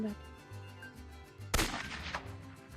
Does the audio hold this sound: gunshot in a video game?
yes